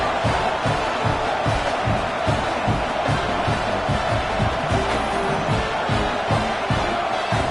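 Stadium crowd at a Chattanooga at Tennessee college football game cheering after an opening kickoff returned for a touchdown, a loud continuous roar with whoops and claps throughout.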